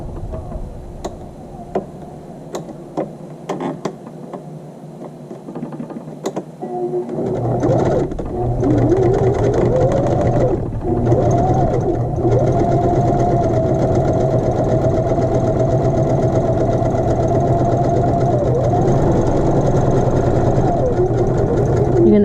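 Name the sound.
sewing machine stitching on muslin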